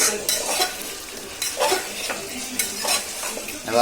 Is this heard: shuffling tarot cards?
no